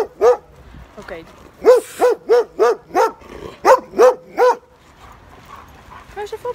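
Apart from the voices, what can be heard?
dogs barking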